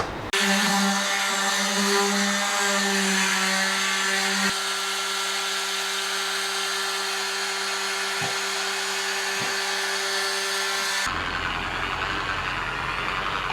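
A power sander works a catamaran hull with fine grit, holding a steady high whine throughout, with the tone shifting partway and the motor winding down near the end.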